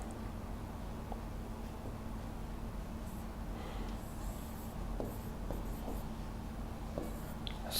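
Chalk or marker writing on a board during an English grammar lesson, a steady scratchy scraping of strokes that runs through the clip over a constant low hum, with small taps between strokes.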